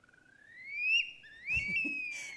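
A sandpiper gives two long rising whistles, like a wolf whistle, the second sliding up and trailing off, fairly faint against a quiet outdoor background.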